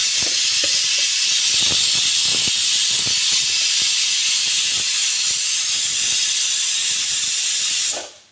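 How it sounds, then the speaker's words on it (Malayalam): A pressure cooker of aviyal lets out its whistle, a loud, continuous steam hiss that runs unbroken for several seconds before cutting off. "അപ്പം നമ്മുടെ അവിയലിൻ്റെ കുക്കറിൻ്റെ വിസിലൊക്കെ കേട്ടല്ലോ"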